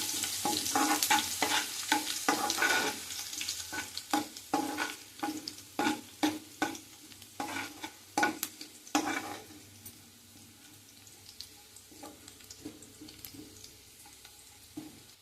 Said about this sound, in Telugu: ఎల్లుల్లిపాయ ముక్కలు జీలకర్ర ఫ్రై అయినాయండి.